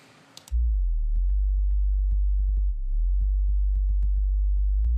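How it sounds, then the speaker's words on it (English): A pure sine-wave sub bass made in the Massive synth enters after a brief noisy start and drones low and loud and steady for the rest of the clip, with faint clicky percussion ticking above it. "it's just a simple sine wave."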